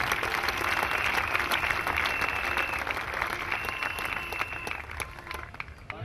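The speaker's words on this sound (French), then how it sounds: "Acclamez pour Jésus-Christ." Audience at a church crusade in Cameroon applauding, a sustained wash of many hands clapping and crowd noise, loud at first and slowly tapering, with a voice faintly heard through it.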